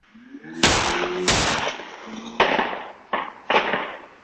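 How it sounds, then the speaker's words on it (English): Several gunshots ring out in a residential neighborhood street as a dark blue sedan and a red sedan speed past, five sharp loud bangs in an irregular sequence with brief echoing tails. "you can hear several shots ring out"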